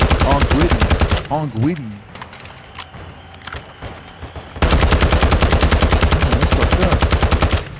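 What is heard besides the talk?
gunfire shooting at a UFO in video game Call of Duty Warzone 2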